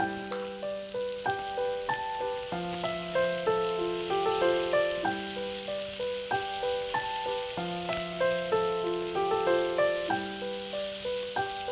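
Green chillies sizzle as they hit frying mutton curry in a pan: a steady, bright hiss and crackle that runs throughout, with looping tonal background music and no talking.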